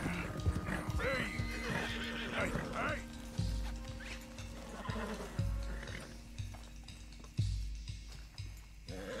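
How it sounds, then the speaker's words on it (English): Horse in Red Dead Redemption 2 neighs and whinnies near the start, followed by hooves clip-clopping at intervals, with a voice speaking over the game audio. "Lasso the stallion."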